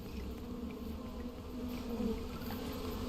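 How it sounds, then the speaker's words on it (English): Angry bees in the video game Peak buzz continuously in a dense, close drone that swells slightly, with no voice over it. "Stop hurting me, bees. I get you're angry because I ate your home"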